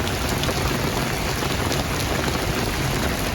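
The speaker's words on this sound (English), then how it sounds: "The holiday weekend kicked off with heavy rain and thunderstorms across the area." Heavy rain pours steadily during a holiday-weekend thunderstorm, a dense, continuous hiss of drops on surfaces, loud and close with no distinct thunder clap or voices.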